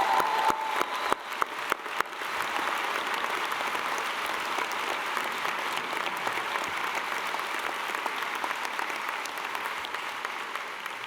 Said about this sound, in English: a very warm clap for everyone that has just passed and got their awards today